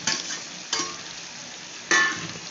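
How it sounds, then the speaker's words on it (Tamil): Boiled cowpeas stirred into cooked brinjal thokku in a pan, giving three short scraping stirs against a soft steady sizzle, close and fairly quiet. "சேர்த்துட்டு நல்லா மிக்ஸ் பண்ணிப்போம்"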